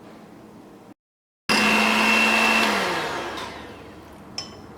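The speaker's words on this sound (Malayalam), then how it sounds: "ഞാനിവിടെ ഇതേപോലത്തെ ഒരു ഹാൻഡ് മിക്സർ വെച്ചിട്ടാണ് ബീറ്റ് ചെയ്തെടുക്കുന്നത്." An electric hand mixer beats butter, starting abruptly after a moment of silence with a loud, steady motor whir that slowly drops in pitch and volume as it runs, ending with a faint clink.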